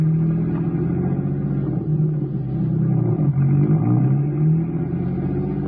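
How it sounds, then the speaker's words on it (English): A car engine rumbles and revs steadily at moderate loudness in an old-time radio drama, with the pitch rising and falling as it pulls away, and no voices over it. "Get the car going."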